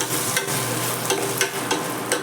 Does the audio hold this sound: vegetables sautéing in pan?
yes